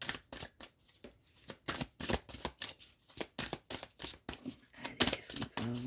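Tarot cards are shuffled close up in a quick run of crisp riffling flicks and soft slaps, steady and rhythmic, with no talking.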